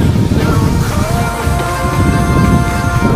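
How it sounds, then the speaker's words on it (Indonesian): Rain falling in a foggy pine forest near Bromo, Sukapura, heard as a loud, dense, unbroken hiss close to the microphone with no pauses. "Hujannya sedang turun."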